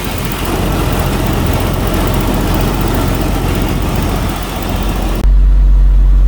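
A Jaguar XJS 3.6 engine running close by, a loud steady rumbling idle with continuous broadband roar for about five seconds before an abrupt shift to a deeper low drone.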